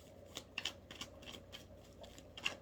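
Tarot cards being shuffled by hand during a reading, a quiet run of soft papery riffles and flicks with a few sharper snaps, close and low in level, with no talking.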